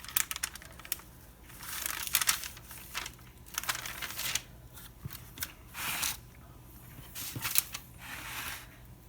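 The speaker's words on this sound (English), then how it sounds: "I'm going to pull this parchment away and we'll see how clean the plate is left" Parchment paper is peeled off a plate, making close crinkling, rustling and crackling bursts that come and go over several seconds with no talking.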